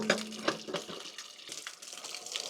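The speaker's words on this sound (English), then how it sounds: "Okay, let's drain the pressure off." Water and pressure hiss and gush briefly from a camper water heater's drain valve as it is slowly opened, a fairly faint rushing splash with no voices.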